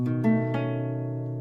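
Guitar chord played in the Animal Crossing: New Horizons guitar tutorial, two or three close strums ringing out cleanly and sustaining alone as they slowly fade.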